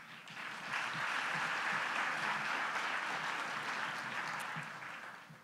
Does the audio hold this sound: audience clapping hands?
yes